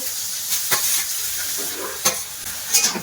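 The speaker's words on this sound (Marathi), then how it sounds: "तूप गरम झालेला आहे आता यामध्ये गाजर घालूया" Carrots sizzle steadily in hot ghee in a kadai, a continuous close frying hiss broken by a few sharp stirring scrapes and crackles, with no talking.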